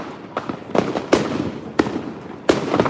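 Fireworks bursting on Christmas Eve in El Salvador: a rapid series of loud, sharp explosions, some near and some further off, with rumbling crackle between the bangs.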